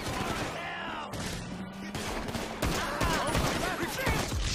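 Rapid gunfire in the video game GTA V during a prologue shootout, with dense bursts of automatic fire and sharp single shots, loud and continuous, mixed with game sound effects.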